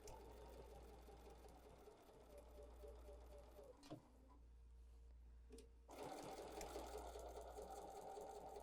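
Steady whirring of a sewing machine stitching a fabric hot pad with blue thread, running continuously with a brief pause near the middle before starting up again, close and alone.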